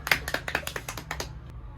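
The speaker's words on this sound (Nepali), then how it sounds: "ताली बजाऊ।" Hands clap about ten times at a family eating challenge, quick sharp claps in a brisk uneven run, fairly close, fading out at the end.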